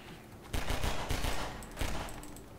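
Rapid automatic gunfire from the video game Half-Life 2 rattles out in several loud, dense bursts with short gaps between them, close and sharp over a faint background hum.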